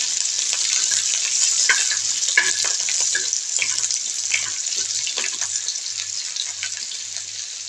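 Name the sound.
garlic and green chillies frying in hot oil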